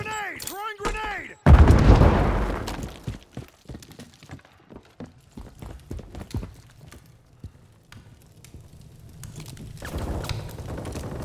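Grenade blasts and gunfire in the shooter Call of Duty Modern Warfare III: a voice at the start, then one loud close explosion followed by scattered sharp shots and a lingering rumble.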